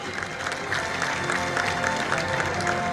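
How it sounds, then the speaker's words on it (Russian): An audience at a fashion show, the Kazan Islamic Clothes festival, keeps up sustained applause, a dense, even wash of clapping from a large crowd in a hall. "Ваши аплодисменты не смолкают"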